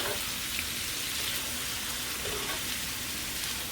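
Green beans sautéing in a skillet give off a steady, dense sizzle that holds at an even level with no pauses and no talking.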